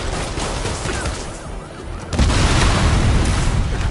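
Explosions from rocket launchers and grenades in the Spider-Man video game on Ultimate difficulty: a dense rumbling barrage that swells sharply halfway through into a loud, sustained blast-heavy roar.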